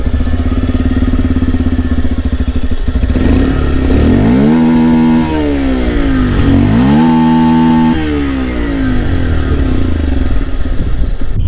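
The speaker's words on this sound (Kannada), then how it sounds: "ಸೊ ಫಸ್ಟ್ ಇದ್ರ ಎಕ್ಸಾಸ್ಟ್ ಸೌಂಡ್ ಕೇಳೋಣ." A Bajaj Pulsar 125 motorcycle exhaust, loud and close: a steady idle that rises into two throttle revs, each climbing and falling back, then settles to idle again, with no voices.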